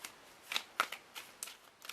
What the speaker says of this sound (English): Better shuffle in this way, it's not going to work.